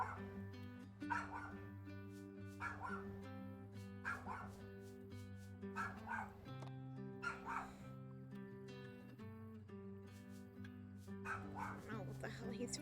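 A dog barking and yelping repeatedly indoors, fairly faint, under steady game music.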